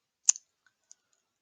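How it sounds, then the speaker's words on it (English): A computer mouse gives one sharp click, close and quiet, followed by a faint second tick, with silence all around and no talking. "we're going to click on this"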